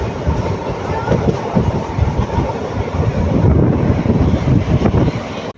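A train on the Erode to Ernakulam line rumbles along steadily and loudly through forest near Palakkad, with rhythmic rail clatter and constant rushing noise throughout.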